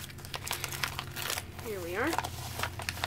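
Packaging crinkles and crunches close by during an unboxing, steady rustling under brief speech.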